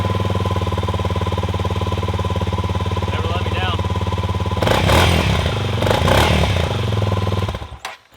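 A 2014 Honda CRF 250L street-legal dual sport motorcycle idles with a loud, steady single-cylinder putter close by, then revs briefly with clattering before cutting off near the end.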